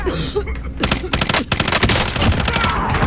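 Gunfire in the video game Warzone crackles in dense, loud bursts of rapid shots, one volley after another close by, over a low rumbling background.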